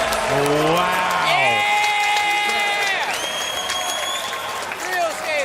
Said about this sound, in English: I'm hearing the crowd below me screaming